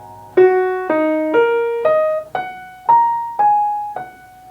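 Single piano notes struck one after another in a stepwise rising line, each cut off cleanly with little ring or sustain between them.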